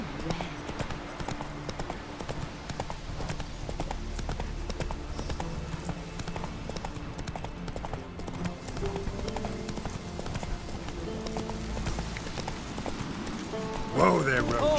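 Horse hooves clip-clopping at a steady trot in The Witcher III, a continuous rhythmic patter under game music and ambience, with a voice speaking briefly near the end.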